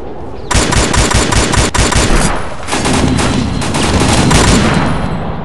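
Lee-Enfield sniper rifle fire in the video game World War Heroes: loud, dense, rapid gunfire that runs almost continuously with sharp cracks over a sustained roar of shots.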